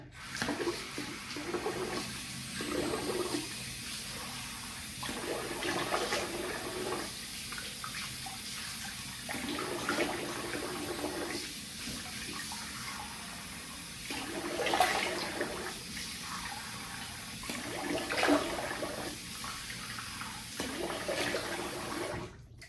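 Water runs from a bathroom sink tap as a face is rinsed after a shave, with faint splashing in irregular bursts over a steady low flow.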